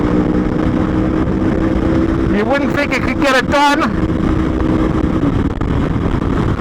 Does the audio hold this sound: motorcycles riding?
yes